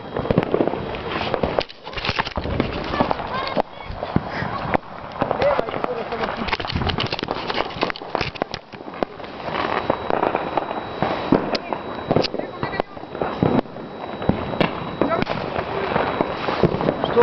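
Firecrackers bursting outdoors at New Year, dense repeated cracks and pops, some near and loud, with people talking and shouting throughout.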